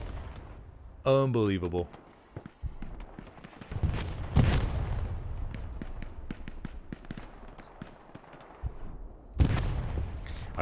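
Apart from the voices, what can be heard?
artillery strikes in video game Hell Let Loose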